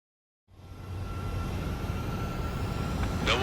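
A jet fighter taxiing in the flight game Ace Combat 7, its engine rising from silence into a steady, loud roar and whine that holds to the end, with no talking.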